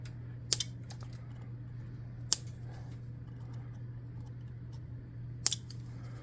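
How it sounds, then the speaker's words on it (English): Scissors snip a handmade tabletop miniature monster, three sharp, brief cuts spaced apart over a steady low hum, with no talking. "Then let's snip."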